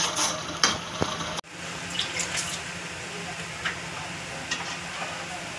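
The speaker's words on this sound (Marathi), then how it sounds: "थोडंसं ह्याच्यात थोडंसं पाणी टाकून मस्त घेऊया भाजून" Ground masala with boiled tomato fries in oil after a splash of water, giving a moderate hiss and sputtering sizzle close by, with a sharp clink early on and no voices.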